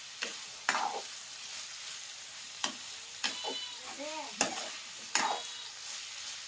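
Tomato and masala fry in a pan with a soft, quiet sizzle, broken by a few sharp scrapes and taps of a spoon at irregular moments.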